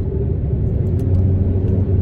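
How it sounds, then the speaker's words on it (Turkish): Steady low rumble of heavy road traffic heard from inside a moving car, a continuous engine and road drone with no talk. "Pardon arkadaşlar, trafik yoğun ilerliyor."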